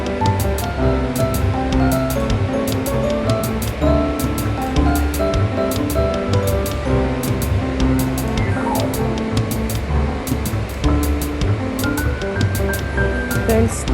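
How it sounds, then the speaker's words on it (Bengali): Small fish frying in a little oil, a dense, steady crackling sizzle that holds without pause for the whole stretch, with a tonal music-like layer running underneath. "এবার আমি মাছগুলো ভেজে তুলে নিচ্ছি।"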